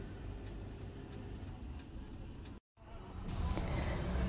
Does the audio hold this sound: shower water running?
no